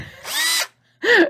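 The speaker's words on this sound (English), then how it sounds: "why would I use a screwdriver when I can use a drill?" Power drill motor whining in two loud bursts, the pitch sweeping up and down each time, with a short silent gap between them and no voices.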